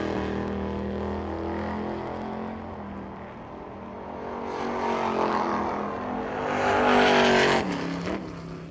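A Mustang race car runs a bracket time trial at a drag strip, its engine a distant buzzing roar that swells and rises in pitch as it passes and fades, heard from a spectator's distance.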